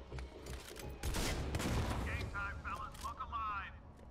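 A grenade launcher fires in the shooter game Modern Combat 5, one heavy booming discharge followed by a rumbling blast, with someone talking over it.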